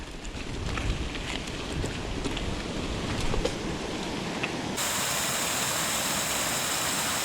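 A creek rushes past a culvert on a wooded bike trail, a steady broadband wash of flowing water, loud and close, continuing throughout without pause.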